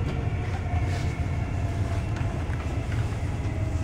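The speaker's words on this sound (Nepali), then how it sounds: "उता मालवाहक ट्रेन आउने चाहिँ" A freight train rolls past on the line between Koblenz and Mainz, a loud, continuous low rumble with rhythmic clatter of wagons over the rails, steady and close throughout with no voices.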